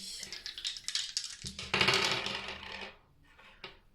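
Dice are thrown during a card-reading session, giving a quick clatter of small hard pieces rattling and tumbling onto a surface, with one louder burst of knocks and then a few lighter taps, close and alone.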